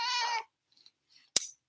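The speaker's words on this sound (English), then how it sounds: "I got my cat." A house cat gives a single clear meow at close range, followed by brief quiet shuffles and a sharp click.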